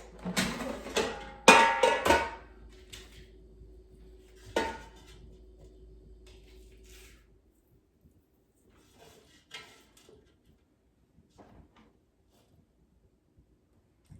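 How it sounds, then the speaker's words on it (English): A whole fish goes into an air fryer basket: a few sharp metallic clanks and rattles of the basket up front, one more knock, then a low hum that fades to near silence with faint scattered taps. "And now let's put the fish in the air fryer basket."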